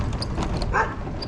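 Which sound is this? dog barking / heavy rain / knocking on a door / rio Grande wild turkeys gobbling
dog barking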